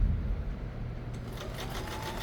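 A Kenmore sewing machine starts up and stitches, with low motor hum settling into a rapid, even needle chatter that builds over the second half, close and fairly loud with no talking.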